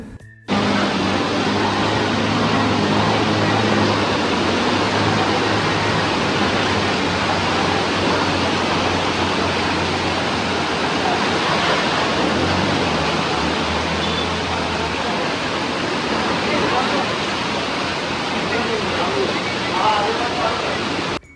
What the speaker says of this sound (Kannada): ಸಿಕ್ಕಾಪಟ್ಟೆ ಮಳೆ, ಅದು ಬೇರೆ ಫ್ಲಡ್ ಆಗ್ತಿದೆ.